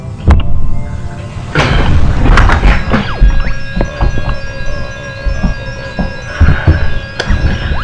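A foot taps repeatedly to wake it from being asleep, producing a few sharp, close thumps scattered among game music from Banjo-Tooie.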